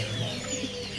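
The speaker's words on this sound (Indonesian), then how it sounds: "Di sini ada juga burung remetuk laut ya." A remetuk laut bird calls briefly at a bird market, soft cooing notes over a steady background hum of the market.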